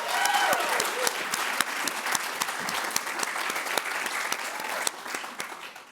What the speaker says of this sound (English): Let's give a round of applause for the Doctor of Education degree candidates.